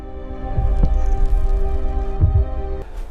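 Heartbeat sound effect: two pairs of deep, thudding lub-dub beats, spaced about a second and a half apart, loud and close over a steady low hum.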